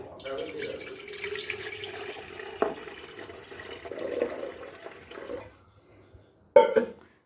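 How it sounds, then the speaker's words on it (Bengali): Tap water runs steadily into an electric kettle for making morning tea, a continuous splashing stream for about six seconds, then a short sharp clatter near the end, with a cough or throat-clear briefly heard. "এই হলো চা বানানোর ইলেকট্রিক কেটল। এর মধ্যে আমি এখন দিয়ে দিচ্ছি জল।"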